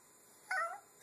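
A single short cat meow, about a quarter-second long, rises out of near silence and then fades away.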